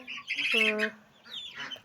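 Young chicks give a couple of short, close, high-pitched squawking chirps separated by a brief pause.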